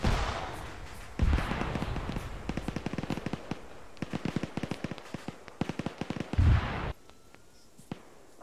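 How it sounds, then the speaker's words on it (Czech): Gunfire in the military video game ARMA 3, with bursts of sharp rapid shots and several heavy booms in irregular rhythm, some near and loud, others more distant, all without talk. "Střelba."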